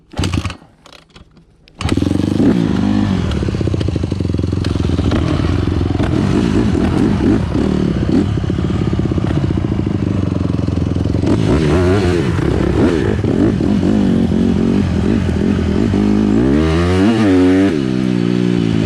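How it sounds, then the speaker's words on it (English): A dirt bike engine starts after a few brief sounds, then runs loud and close throughout as the rider sets off along a lake, with a steady throttle roar, revving surges and a rising, accelerating whine near the end. "Bike is so fast, I gotta be careful or it's gonna get away from me."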